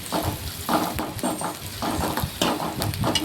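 Onions and curry leaves sauté in hot oil in a pan for a street-style mushroom dish, giving a steady close sizzle broken by regular scraping stirs, with no voices.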